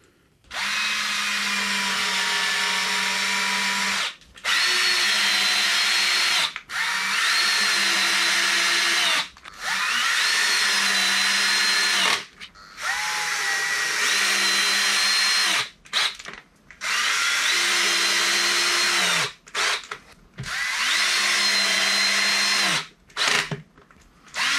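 A power drill drives fasteners to mount a subwoofer into a speaker cabinet, running in long, loud, close bursts with short pauses between, its whine shifting in pitch as the load changes; no one talks.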